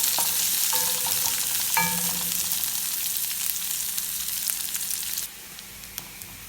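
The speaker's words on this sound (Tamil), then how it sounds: "எல்லாத்தையும் போட்டு இப்போ வடிவாக தாளிக்கணும்" Steady loud sizzling of onion, curry leaves, dried chilli, mustard seeds and fennel frying in hot oil, with a few clinks and stirs, fading quieter near the end.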